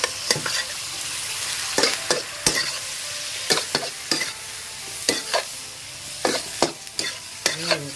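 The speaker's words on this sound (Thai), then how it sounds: "ผัดบล็อกคอรี่ หมูกรอบ สับสดนะครับ" Broccoli and crispy pork being stir-fried, a spatula scraping and clanking against a wok in regular strokes about every half second to second, over a constant sizzle, close and clear with no voices.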